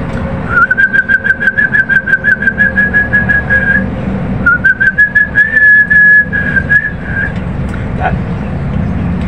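A person whistles two long sustained notes to lovebirds, loud and close, over a pulsing engine-like rumble and faint background sounds.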